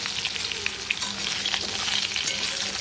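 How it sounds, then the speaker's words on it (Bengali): Drumstick pieces frying with mango in a pan: dense, steady crackling sizzle up close, with intermittent stirring scrapes and light taps, no talking. "ডাঁটাটা একটু নেড়ে চেড়ে ভেজে নেওয়া হয়েছে"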